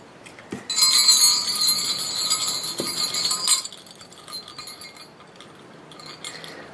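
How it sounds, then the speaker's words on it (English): Jingle bells jingle as a DIY farmhouse-style garland is assembled: a bright, sustained shimmer of small metal bells that rattles loudly for a few seconds, then thins to faint, scattered tinkles. "But when you're working with jingle bells, I guess that's what you're going to get"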